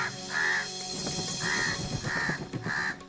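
Birds mobbing a small owl give harsh, crow-like caws in a series of about five loud, near calls at a steady pace.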